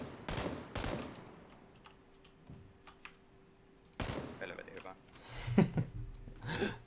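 Rapid bursts of video game gunfire crackle in quick volleys near the start and again toward the end, with scattered single shots and keyboard clatter between, under a player's voice.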